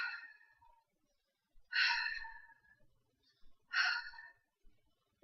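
A man imitates heavy breathing with his breath over his fingers, three drawn-out sighing gasps with pauses between, close and fairly loud, no other sounds.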